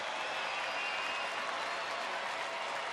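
Large baseball stadium crowd of over 33,000 at a Cleveland at Texas game, many standing, cheering and applauding in a dense, steady roar of clapping lasting throughout, with no talk over it.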